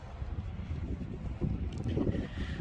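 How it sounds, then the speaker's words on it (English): Steady low rumbling wind buffeting a microphone, a continuous blustery roar with no speech. "Still kind of hella windy though."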